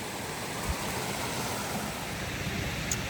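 Cascading waterfalls on the Appalachian Trail pour in a steady, broad rush of falling water that holds evenly throughout, close and fairly loud, with no voices.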